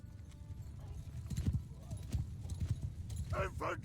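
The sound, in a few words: cavalry horses galloping in video game Mount and Blade 2 Bannerlord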